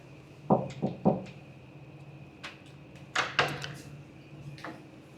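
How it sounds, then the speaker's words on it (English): Knocking on a shower door in a hotel gym in Amsterdam, heard as three quick close raps, then a second, fainter cluster of knocks a couple of seconds later. "We'll knock and see if anything was in here."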